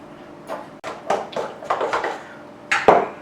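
Yogurt and salt are stirred into a sourdough starter in a bowl, giving a series of close utensil scrapes and clinks at irregular intervals, with a sharper ringing knock near the end.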